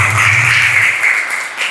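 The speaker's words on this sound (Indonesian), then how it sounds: "Tepuk tangan untuk kita semua." Schoolchildren clap together in a classroom during a morning lesson: a short, steady burst of dense applause, fairly loud and close, lasting under two seconds with no talking over it.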